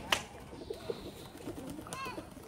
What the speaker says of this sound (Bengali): কবুতর ভালো লাগে